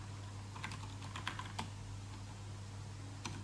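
Fast, light typing on a keyboard connected to an iPad, with irregular bursts of key clicks over a steady low hum, quiet and close, with no talking.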